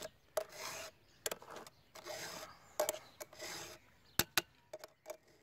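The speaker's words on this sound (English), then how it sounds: "So I use the filing guide." A chainsaw chain is sharpened by hand with a file in a filing guide, giving short rasping strokes in an irregular rhythm with brief gaps between them and a couple of sharp ticks near the end.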